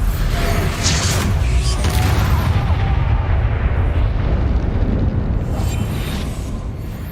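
An Expulso explosion spell in Hogwarts Legacy erupts in a loud, dense, rumbling blast that roars on for several seconds and then slowly tapers off.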